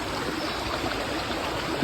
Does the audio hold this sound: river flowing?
yes